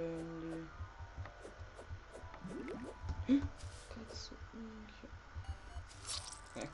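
Water flows down in the video game Terraria, heard as a run of soft drips and squishy liquid sounds over tonal game music, with a person talking in between.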